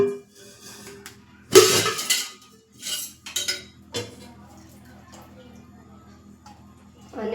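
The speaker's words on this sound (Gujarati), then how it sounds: "તેના પર એક કઢાઈ રાખીશું." A metal kadhai is set down on a gas stove with one loud clank, followed by a few lighter clinks and taps in a quiet kitchen, with a voice speaking softly.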